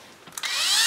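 Power drill with a drill bit in a woodworking cabinet-making workshop, a brief click and stutter then the motor spinning up into a steady, loud high whine.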